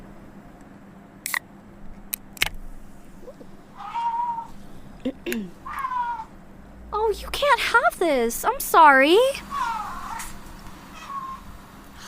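A cat meows several times in drawn-out, rising and falling cries, growing louder and more insistent toward the middle, with sharp clicks and a person speaking softly in between.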